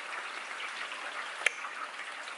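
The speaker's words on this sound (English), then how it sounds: "It's dumping rain outside right now" Heavy rain falling outside, a steady soft hiss of downpour heard from indoors with one sharp drip or tap partway through, no voices.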